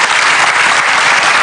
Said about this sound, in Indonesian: Luar biasa, kita kasih tepuk tangan